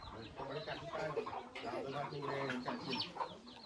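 A rooster clucking in a village yard, a run of close, repeated clucks and squawks with people talking faintly underneath.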